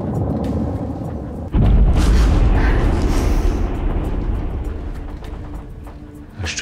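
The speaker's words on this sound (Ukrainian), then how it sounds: "Мінометом і криють." Mortar shelling in a Ukrainian occupation-era war drama lands as a sudden deep boom, followed by a long rolling rumble that slowly fades, with faint rustling in the quieter moments before and after.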